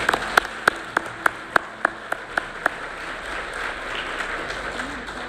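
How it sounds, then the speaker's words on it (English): Audience applause at a regional educators' awards and scholarship ceremony, honoring nominees and winners: a few crisp, evenly spaced claps stand out above a steady, moderate wash of clapping that carries on throughout. "And let's give all the nominees and the winners a round of applause tonight."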